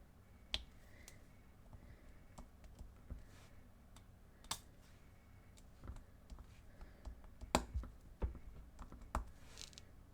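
Diamond painting drills click into place on a canvas, a string of small sharp snaps and ticks at irregular intervals over a quiet room hum.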